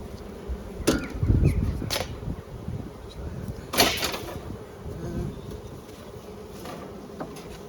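Honeybees hum around an opened outdoor apiary hive, a soft steady buzz with a few louder passes as individual bees fly close to the microphone; no one speaks.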